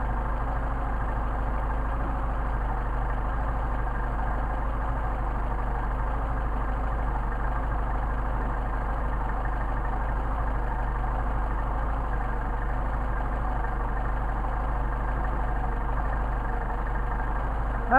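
A Mercedes 190SL engine with Solex carburetors idles while warming up, a steady, even drone that runs unchanged throughout with nobody talking.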